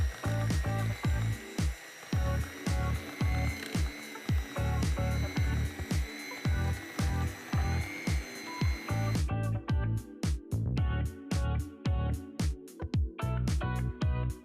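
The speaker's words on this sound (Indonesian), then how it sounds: "lalu mixer hingga semuanya tercampur rata" An electric hand mixer beats margarine with egg yolks for a marble sponge cake batter, whirring in steady bursts with rhythmic clattering of the beaters against the bowl, loud and close.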